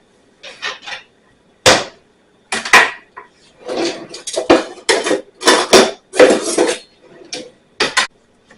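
Knife cutting pierogi on a board, a series of sharp, irregular knocks and clatters from close by, separated by short pauses.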